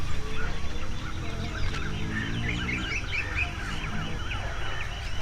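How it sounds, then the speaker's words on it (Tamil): Birds and sparrows call and chirp around a quiet village, with a dense, overlapping chorus of twittering and some fowl-like clucks close by, continuing steadily. "பறவைகளோட சத்தமும் குருவிகளோட சத்தமும் கேட்குது."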